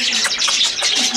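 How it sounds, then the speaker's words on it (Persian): Birds at a Kabul bird market, likely pigeons, give a few close, bright chirps and calls in quick succession over a busy background. "پرنده های مختلف هست"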